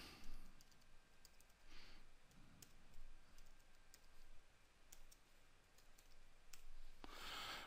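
Soft, scattered keystrokes on a computer keyboard as CSS is typed into a Thesis 2.1 code editor, quiet close-up clicks in irregular bursts over low room hiss, with a slightly louder flurry near the end and no talking.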